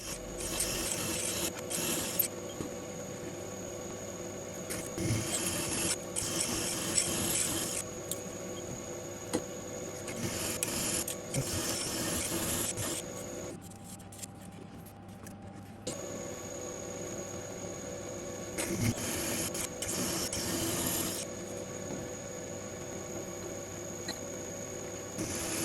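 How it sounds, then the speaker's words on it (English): Drill bit boring holes through aluminium in a home machine shop, a loud steady grinding whir in long runs with a short quieter break midway, no speech. "I'm drilling these through into the aluminium."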